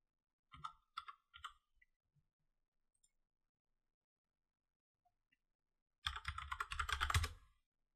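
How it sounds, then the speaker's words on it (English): A few quick keystrokes tap on a computer keyboard while typing a command, then a pause, followed by a dense flurry of typing close up; no voices. "I'm just going to open command prompt and type ipconfig"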